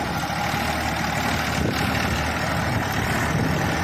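A Massey Ferguson MF 241 tractor fitted with a reversible mould-board plough runs steadily at close range, its engine a continuous, even drone with no voices over it.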